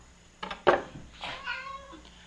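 A cat meows close by, a short chirp followed by a longer, drawn-out meow, fairly soft with a quiet room behind it.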